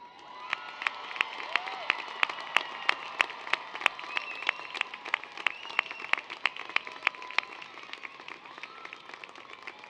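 Graduates at a university commencement ceremony stand and cheer, filling the hall with sustained applause, clapping and shouting from a large crowd for about ten seconds, with sharp individual claps standing out above the steady roar.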